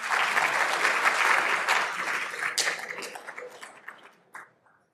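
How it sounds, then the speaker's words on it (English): An event audience applauding for themselves and their partners during a talk on bias, a dense steady clapping that thins into scattered claps and fades out over the last second. "if you can clap for you and for your partner"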